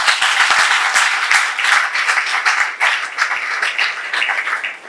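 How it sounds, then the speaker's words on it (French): Wedding guests applaud the brides at an official civil ceremony, a dense, steady round of clapping that fills the whole stretch with a few sharper individual claps standing out near the front. "Applaudissons les reines championnes."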